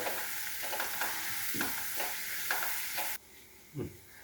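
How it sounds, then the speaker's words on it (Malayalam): Ginger and garlic sizzle steadily in hot oil for a pickled tuna relish, with a handful of soft spoon scrapes against the pan; the frying hiss cuts off near the end, leaving a quieter bump. "നന്നായിട്ട് ഇഞ്ചി വെളുത്തുള്ളി ഒന്ന് മൂപ്പിച്ചെടുക്കുക"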